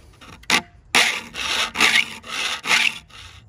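A file rasps across the teeth of a vintage handsaw, with four or five loud, even back-and-forth strokes and short gaps between them, heard close up with no talking.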